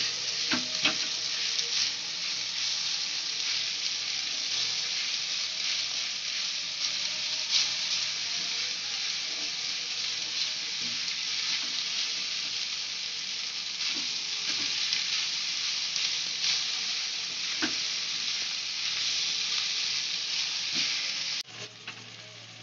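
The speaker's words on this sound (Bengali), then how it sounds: "ভালো করে নাড়াচাড়া করতে হবে এবার হাই ফ্লেমে, যাতে সব উপকরণগুলো একসঙ্গে মিশে যায়।" Egg hakka noodles stir-fried over a high flame give a steady, loud sizzle that runs almost unbroken, with occasional scrapes and clicks of stirring, ending abruptly near the close.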